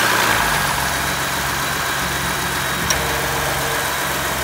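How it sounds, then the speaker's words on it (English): A tuned Ford F-150 with the 3.5L EcoBoost engine idles steadily at a constant low hum with a broad, even hiss and no revving, heard alone. "I'll let it idle for a little while and then I'll give it gas, hold it maybe at like 3000 RPM."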